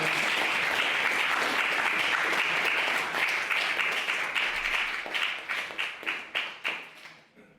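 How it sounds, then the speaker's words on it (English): A room of students at a debating society meeting applaud a speaker with a full, steady round of clapping that thins out into scattered individual claps before stopping. "can we give a big round of applause for Josie, please?"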